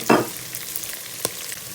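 Turmeric and meat frying in hot oil, a constant close sizzle with a couple of brief stirring clatters on top, no voices.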